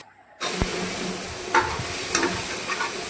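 Food sizzles and fries steadily in a pan while a utensil stirs it, with a few sharp scrapes and clinks against the metal.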